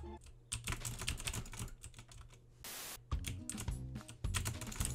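Keyboard keys and mouse buttons clatter rapidly and densely during Minecraft play, a fast, close burst of clicks broken by a brief hissing pause.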